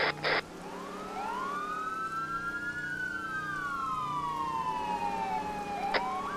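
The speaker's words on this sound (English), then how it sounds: "I just got passed by a police car that I've never seen before." Police car siren in Arma 3, a wailing tone sweeping up and down and gliding past with a slight pitch shift, fairly near over a steady engine drone, with no talk.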